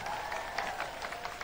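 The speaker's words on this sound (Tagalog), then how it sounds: "Kaunting palakpak lang." A congregation at an El Shaddai healing service claps together, a dense, steady patter of applause from a large crowd with a few sharper claps standing out, fairly distant and continuous throughout.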